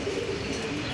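Pigeons on a farm give a brief, soft, low cooing that sits steadily under a busy background murmur.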